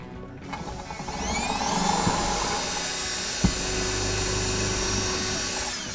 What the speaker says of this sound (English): So now that we've drilled the hole,